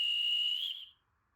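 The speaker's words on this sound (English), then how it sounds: "the guard's whistle" A Marklin My World toy train set plays a single shrill guard's whistle blast, held steady for under a second before fading out, close and isolated.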